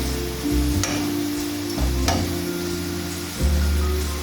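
Seasoning sautéing in a pan before callaloo is added, a steady close sizzle with scrapes and stirring clatters from a utensil, and low hum beneath.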